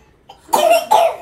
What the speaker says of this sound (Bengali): ছেলের আবার কাশি হয়েছে